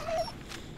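A dog in the Fallout 4 video game gives a short, faint whimper, a single brief high whine over quiet game ambience.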